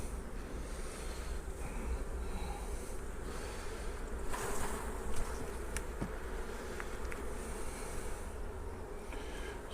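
A dense swarm of honeybees drones loudly and continuously close by as they are shaken off a hive frame in a back garden, with a brief rustle and knock partway through.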